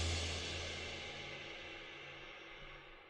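Low and high crash cymbal layers sound together with VintageVerb reverb: a broad, loud wash with a brief low thump at the start, ringing on and gradually decaying without any voices.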